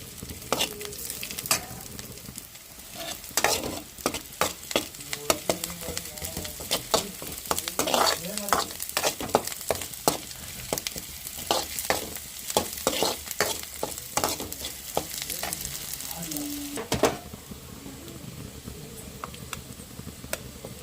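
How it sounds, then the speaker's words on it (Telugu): Ginger garlic paste fries in a pan on medium flame for an okra masala curry, with a constant sizzle and frequent rhythmic scraping of a spoon against the pan. "అల్లం వెల్లుల్లి పేస్ట్ అల్లం పేస్ట్ కొంచెం వెల్లుల్లి పేస్ట్ కొంచెం వేసుకొని ఫ్రై చేసుకున్నాం పచ్చివాసన పోయేంత వరకు"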